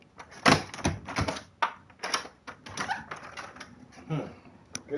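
A locked door is rattled by someone who cannot get in, producing repeated close knocking and clattering bursts of the handle and frame, with voices faintly in the background.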